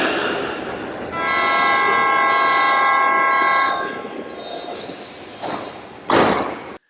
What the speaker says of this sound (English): Der Zug ist auf Gleis 4.